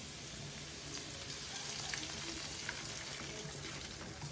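Garlic and onion sauté in a pan for Filipino sinampalukang manok, giving a steady, fairly soft frying hiss with faint crackles throughout and no talking.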